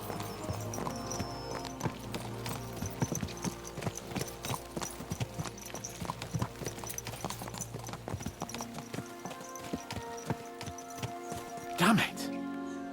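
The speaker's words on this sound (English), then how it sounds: "Let's really spur these horses on, eh?" Horses gallop in the video game Kingdom Come: Deliverance 2, a steady, rapid clip-clop of hooves that carries on throughout at moderate volume, with a brief whinny near the end.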